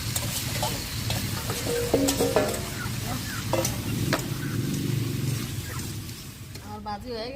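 Food fries in a pan seasoned with garlic powder and salt, a steady crackling sizzle with occasional stirring clatter, while a voice talks over it close by.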